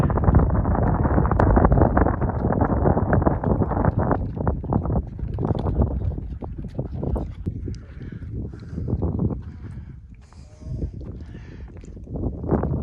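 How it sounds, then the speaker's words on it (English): Wind at Bannack ghost town in Montana, roaring and buffeting straight into the microphone, heavy at first and easing into uneven gusts toward the end. "Wind's blowing out here somewhat."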